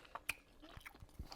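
Close chewing of chewy rice cakes during a spicy rapokki and noodle meal, with soft wet bites and a few sharper mouth clicks spread across a brief, quiet moment, no talking.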